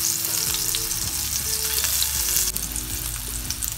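Kebabs frying in a pan for a Turkish-style soupy kebab dish give off a loud, steady sizzle with bubbling crackle throughout, close up and heard alone without any voices.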